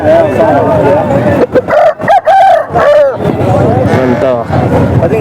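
Roosters crowing loudly nearby, several overlapping calls amid clucking and people talking in a busy outdoor weekly rooster market in Punganur.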